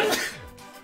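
A single abrupt sneeze bursts out loudly at the start, a sharp broadband blast that quickly tails off into quiet.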